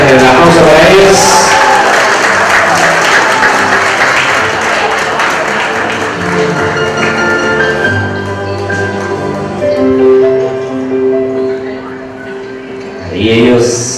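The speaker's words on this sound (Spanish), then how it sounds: "el aplauso para ellos" Applause from a crowd at a quinceañera celebration as the parents enter, clapping sustained under a loud music bed and announcer-style voices, swelling briefly near the end.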